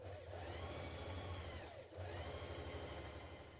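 A sewing machine runs steadily as it stitches together coat front facing pieces, giving a close, continuous whirring drone with a brief slowdown partway through.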